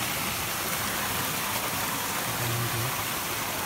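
Rain falls at night in Rajapur, Konkan, on a crab-catching outing, a steady faint hiss of drops with no break and nothing else standing out.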